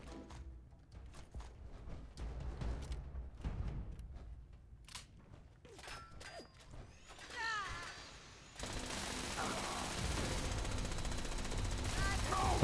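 Gunfire in the video game Fallout 76 on PC: rapid bursts of automatic shots and single cracks mixed with other game effects, sitting under quiet talk at first and growing into a louder, continuous barrage later.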